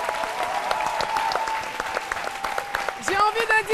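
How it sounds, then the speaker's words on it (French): Audience applause for a radio host welcomed onto a French lunchtime TV show stage, a steady patter of clapping throughout, with voices and music entering near the end. "Je vous demande un triomphe d'applaudissements pour lui."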